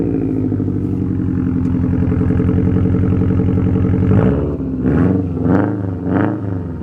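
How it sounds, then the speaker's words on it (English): Engine of a 2020 Subaru STI fitted with a Remark catback exhaust, a steady loud rumble that shifts into rising and falling revs with turbo spool near the end, with no talking. "You can hear some turbo spool now, too."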